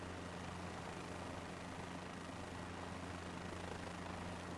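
A helicopter in Microsoft Flight Simulator 2024 hovers low, giving a steady whirring rotor and engine drone with constant low hum, unbroken and fairly quiet throughout.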